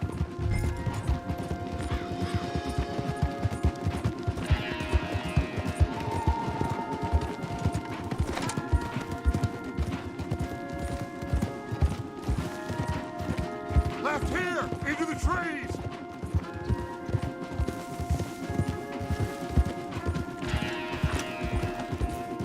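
Horses galloping in Red Dead Redemption 2, steady rhythmic hoofbeats running throughout with creaking tack and occasional snorts, while voices shout directions.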